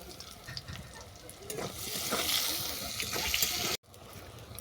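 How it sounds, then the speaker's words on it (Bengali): Eggplant pieces sprinkled with salt and turmeric frying in hot oil, a soft continuous sizzle that swells louder midway, briefly cut off, then resumes, faint and close. "এই তেলের মধ্যে আমি বেগুনটাকে ভেজে নেব।"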